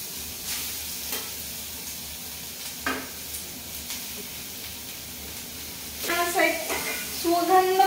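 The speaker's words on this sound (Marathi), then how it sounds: "त्याच्या तुपामध्ये व्यवस्थित हा जो गाजर आहे तो परतवून घ्यायचा आहे." Carrots frying in a spoonful of ghee give a steady soft sizzle with the scrape of stirring, growing louder and busier in the last couple of seconds.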